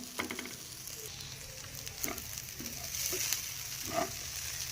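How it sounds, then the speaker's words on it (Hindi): Moong dal halwa roasts slowly over a low flame, giving a soft, steady sizzle with intermittent scraping and stirring noises from a spoon against the pan. "तो इस तरीके से हल्की आंच पे हमने इसे भूनना है।"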